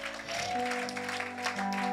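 A church congregation claps and acclaims God during a worship service, with steady clapping spread across the room over sustained keyboard chords.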